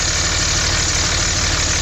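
A Dodge Cummins diesel engine running with its turbo spooling up, making a loud, continuous, close-up roar for about two seconds.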